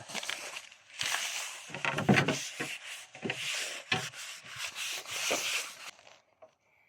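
A cloth or tool rubbing and scraping excess glue off a wooden cabinet in quick repeated strokes, close and fairly quiet, with short pauses between passes before it stops.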